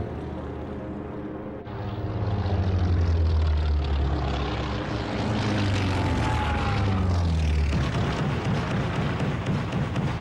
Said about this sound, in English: and then take off to attack the Japanese fleet. Torpedo Squadron 8 will strike first.